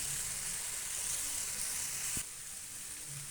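Ginger, garlic and green chilies sizzle steadily in a hot pan while being stirred, a dense close hiss that drops sharply in level partway through, with no talking.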